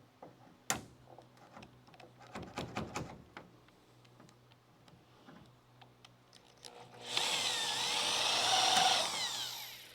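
Scattered clicks and taps give way to a power drill whirring steadily for a few seconds near the end, close and fairly loud, during a Charger crew cab restoration.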